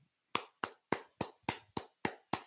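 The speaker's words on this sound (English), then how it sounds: "Let me start clapping." A radio host claps his hands eight times in a slow, steady rhythm, each clap sharp and close with short decay and silence between, no talk over it.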